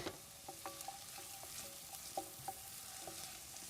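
Finely chopped onion frying gently in a pan, a quiet low sizzle with soft crackles and occasional stirring clicks, faint and steady with no talking.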